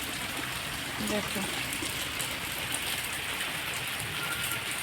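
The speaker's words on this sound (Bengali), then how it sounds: "কি পরিমাণ বৃষ্টি হচ্ছে" Heavy rain pours down in a dense, steady hiss of drops striking surfaces, loud and continuous throughout, with a voice speaking briefly near the start.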